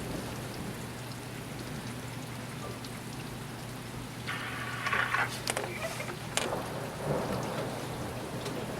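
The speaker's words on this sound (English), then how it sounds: "Look at the rain. You can barely even see." Heavy rain falls during a thunderstorm, a dense steady hiss of drops from a vehicle, with a few sharper bursts and crackles partway through, all fairly faint and with no voices.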